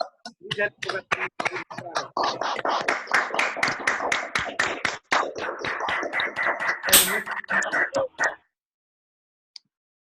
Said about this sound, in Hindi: महागुरु जी का स्वागत अब तक की सबसे दमदार और जोरदार तालियों के साथ हम लोग करेंगे